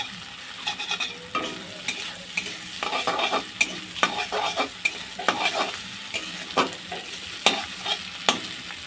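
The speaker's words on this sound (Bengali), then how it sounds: "কিমা করা চিকেনটাও আমি দিয়ে দিলাম এর মধ্যে দিয়ে ভালোভাবে একটু ভেজে নেব" Minced chicken fries in a pan for chicken chowmein, a steady close sizzle broken by repeated scraping stirs of a spatula in an irregular rhythm, with no voices.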